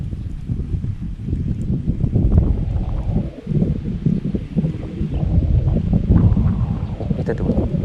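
Strong wind blows on a fishing outing, a loud, continuous rumbling buffet with gusty swells and dips across the whole stretch, battering the microphone.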